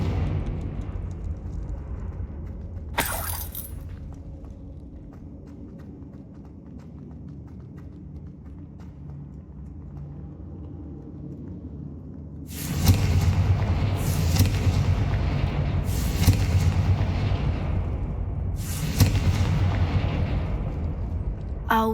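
The Confringo spell in Hogwarts Legacy goes off as a sudden booming blast, followed later by a series of heavy explosions in quick succession over a rumbling game soundscape.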